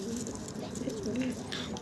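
Soft cooing from a young pigeon raised by hand, low warbling notes running steadily through the clip at close range over a quiet background hiss.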